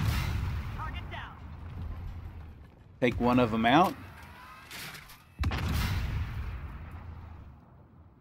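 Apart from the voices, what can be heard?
tank cannon firing at Stingrays in a video game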